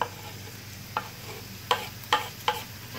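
Broad beans sautéing in a pan with a bay leaf give a quiet, steady sizzle, broken by a few sharp clicks of stirring spaced through the moment.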